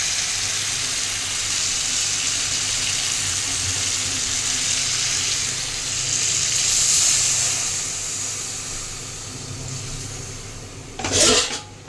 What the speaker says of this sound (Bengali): এরপর দিয়ে দেবো ঘি আর জল দিয়ে দেবো।